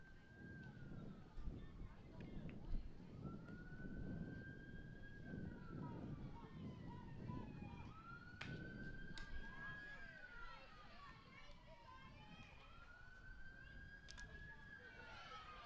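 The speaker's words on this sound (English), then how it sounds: "Some sirens on Slocum Road" Distant sirens wail and rise and fall along Slocum Road beyond a girls' field hockey game, sounding faint under a commentator's continuous talk.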